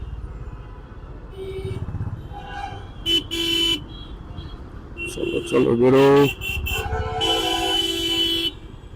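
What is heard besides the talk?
vehicle horns honking in traffic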